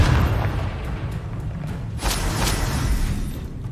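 A Confringo spell explodes in the Hogwarts Legacy video game as a loud, close, rumbling boom with short bursts and crackles rolling through the few seconds, and nobody speaks.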